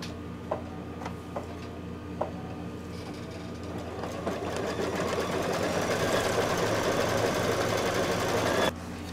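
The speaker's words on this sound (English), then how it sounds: "Now it's going to do the satin stitching on the shoulders and on the outside of the hat." An embroidery machine runs satin stitching on a Santa table runner, a fast mechanical ticking and whirring that grows louder partway through and then stops abruptly near the end, with a few sharp clicks at the start.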